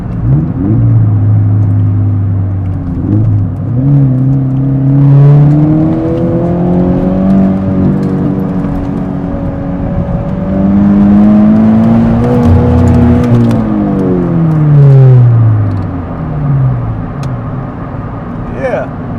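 A Subaru BRZ fitted with a flexible front strut tower bar drives along an ordinary road, its engine droning and rising and falling through gear changes beneath a steady interior road rumble, with people talking throughout.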